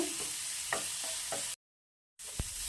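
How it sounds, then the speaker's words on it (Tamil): Vegetables sautéing in oil on a high flame for egg fried rice, a close steady sizzle with scraping stirs of a spatula, broken by a brief silent gap before the frying resumes. "இப்போ அடுப்பை ஹை ஃப்ளேமில் வச்சுக்கிட்டு இந்த வெஜிடபிள்ஸும் 2-3 நிமிஷம் நல்லா வதக்கி எடுத்துக்கோங்க."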